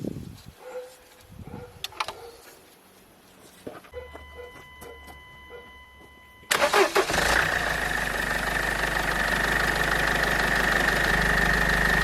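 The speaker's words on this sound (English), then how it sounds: "Now we're gonna start the engine just to make sure that there's no leaks" A Mercedes W211 engine, just back together after water pump, thermostat and belt tensioner work, cranks after a few clicks and workshop clatter, catches, and settles into a steady close idle.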